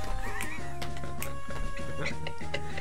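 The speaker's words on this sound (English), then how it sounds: "Look at that horse there. That's a horse." A horse in the video game Fire Emblem whinnies in a short, shrill burst, heard up close alongside game music and a speaking voice.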